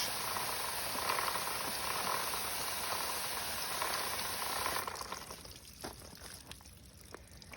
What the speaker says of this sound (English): So you will start by wetting the chain